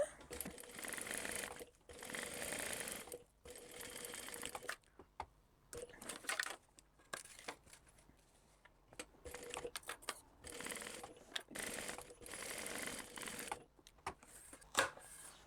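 A sewing machine stitches the ends of a crossbody bag in a series of short bursts separated by brief pauses, fairly quiet and close.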